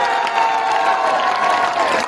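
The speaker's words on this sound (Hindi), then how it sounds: "फिर भी ताली ढीले बजा रहे हो आप लोग।" Large crowd clapping and cheering steadily at an outdoor political rally at Badarpur Border, New Delhi, a dense continuous wash of applause and voices throughout.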